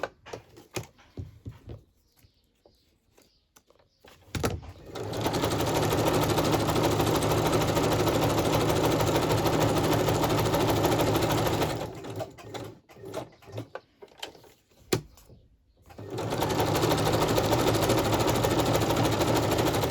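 A sewing machine stitches around the edges of an old book page, running in two long, loud, steady bursts separated by short pauses with quiet handling of the paper.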